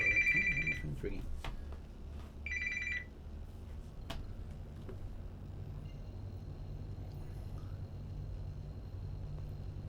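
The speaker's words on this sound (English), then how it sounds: "Oh, my phone's ringing." A phone ringing in two short bursts of repeating electronic rings over a low steady engine hum, with game audio from Star Citizen beneath.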